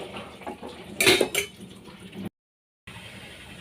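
A lid is set on a home cooking pot of turmeric-seasoned food to let it boil, giving a quick pair of close metallic clinks and clanks, then low kitchen hiss and a brief silent gap.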